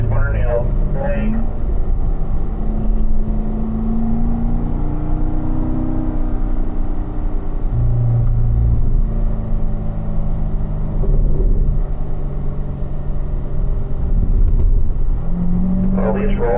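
Race car accelerating, shifting up and braking down through corners on a track, with a steady engine drone rising and falling throughout while someone talks continuously over it.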